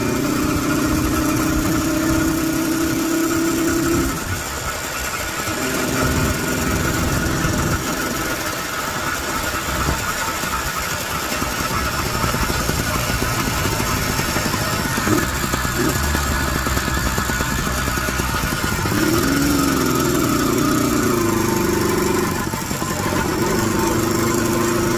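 A Zeda100 DIO two-stroke engine on a motorized chopper bicycle runs steadily while ridden gently during break-in, a close, buzzing drone with brief dips and rises in pace.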